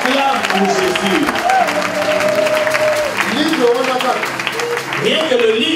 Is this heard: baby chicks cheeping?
no